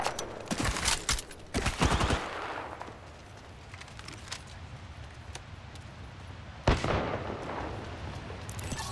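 Bangalore's automatic weapon firing in Apex Legends, with rapid bursts of gunfire up front, then a quieter stretch of distant shots and one more sharp shot near the end.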